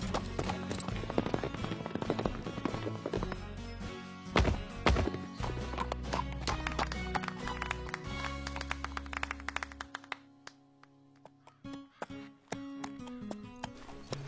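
Cartoon horse hooves clip-clop in a trotting rhythm during a riding lesson demonstration, set against musical score, fading into quieter taps toward the end.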